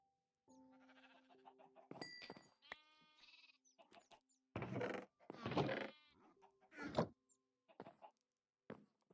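Sheep in a hardcore solo survival video game bleat again and again in short, quavering calls, with clucks from other farm animals mixed in, all fairly quiet with gaps of silence between the calls.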